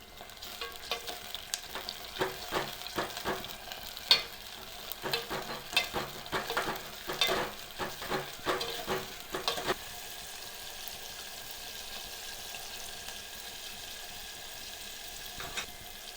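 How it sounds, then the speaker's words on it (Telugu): Onions, tomatoes and green chilies fry in a pan with a steady soft sizzle, broken by clattering stirring strokes for the first ten seconds, then settling into an even hiss. "ఉల్లిపాయలు వేగినాయి, టమాటాలు కూడా వేసేసాను, పచ్చిమిరకాయలు కూడా వేసేసేస్తున్నాను"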